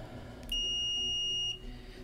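A multimeter's continuity-test beep sounds steadily, high-pitched and electronic, for about one second, clear and close, over a quiet background hum.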